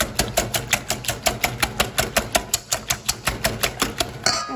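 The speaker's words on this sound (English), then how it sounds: "we're gonna give this a nice quick whisk" Eggs for a phyllo mini quiche are whisked briskly in a bowl, giving a fast, steady run of about five rhythmic strokes per second that carries on evenly throughout, close and clear, with no talking.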